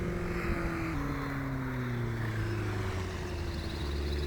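STOL aircraft engine spinning up to about 10,000 RPM for takeoff during Appalachian STOL practice, with a loud, steady propeller drone whose pitch slowly drops and shifts over several seconds, with no voices.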